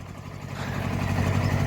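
A Kubota tractor engine runs steadily nearby, a low continuous rumble that builds slightly in loudness over a couple of seconds with no talking.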